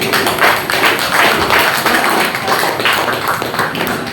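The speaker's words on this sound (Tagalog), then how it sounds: "pumalakpak nga po lahat ng mga anak." A Filipino church congregation claps together during a preaching service, a dense, steady wash of many hands lasting throughout without pause.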